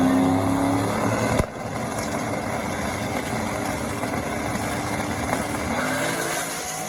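Drag racing street cars at Bradenton Motorsports Park roar steadily in a loud, continuous wash of engine noise at the drag strip, with a brief dip near the start before the din carries on unbroken.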